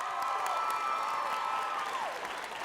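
Audience at a South African talent show applauding and cheering a contestant, a steady dense wash of clapping with crowd noise that holds throughout and eases slightly near the end.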